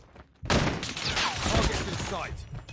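Burst of rapid gunfire from an M4 in Call of Duty Mobile that starts abruptly and rattles on as a dense volley, loud and close, with a voice speaking over it.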